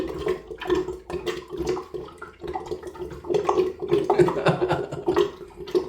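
Bathroom sink drain gurgles and sloshes during a wet shave rinse, irregular watery bubbling bursts close by that rise and fall, with no voices.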